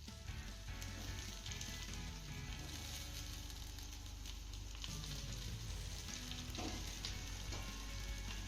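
Jowar flour vadis fry in a hot tempering, a dense, steady sizzle with crackling bursts and occasional stirring, close and constant without any voices.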